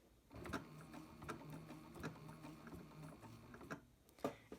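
A sewing machine sews down the edge of a piano-keys quilt border in a quick, close burst of rhythmic clattering stitches with small taps in between, no talking.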